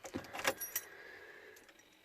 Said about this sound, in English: Well, help if I turn the ignition on.